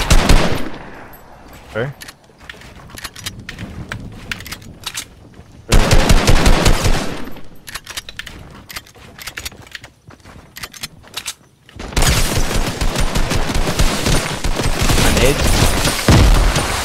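Assault rifle gunfire in a video game rattles in loud rapid bursts, with dense automatic fire in several long stretches and brief pauses between, while players talk over it.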